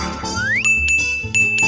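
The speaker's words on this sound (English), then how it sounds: "you just need to use this bell and someone will come out and clean it up for you" A service bell on a counter struck in a cartoon scene, a bright ringing tone that rises, then sustains and repeats in a few quick metallic dings, loud and close.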